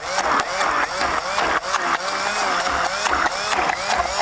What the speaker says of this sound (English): We're going to take a little hand blender